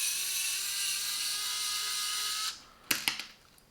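A Parkside PEPS 3 B1 electric precision screwdriver whirring steadily as it unscrews a screw, a high motor whine that stops abruptly, followed by a few sharp clicks and taps.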